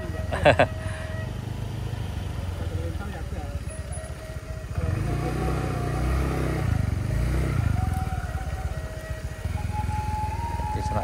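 A Honda Vario 125 cc motorbike labours up a wooden ramp in traffic, its engine note rising and holding under steady background din while people talk nearby.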